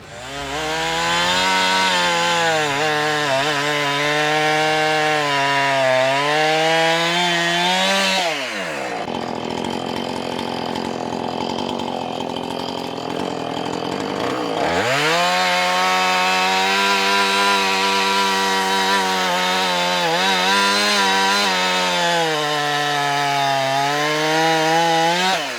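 A chainsaw cuts through uprooted trees, its engine revving loudly and close, dropping to a lower idle for several seconds, then screaming back up to a strained, steady cutting roar.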